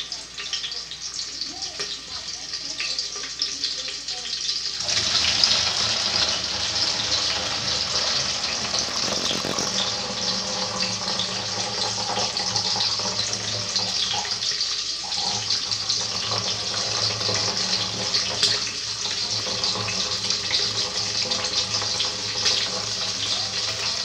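Water runs and splashes steadily as boiled pork knuckle is drained in a kitchen, a continuous gushing wash like a running tap that grows louder after a few seconds and keeps on, with no talk over it.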